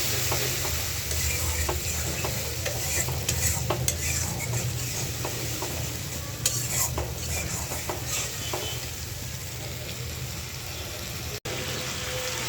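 Spices of chili, coriander, ginger and turmeric are stir-fried with fried onions, giving a steady low sizzle with scattered scraping stir strokes and a sharp knock near the end.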